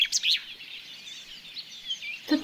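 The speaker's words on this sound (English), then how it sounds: "The birds singing high up in the canopy?" Birds sing high in a forest canopy near a waterfall, with bright chirps and short trills at the start and end over a soft, continuous wash of background sound, moderately close and with no voices.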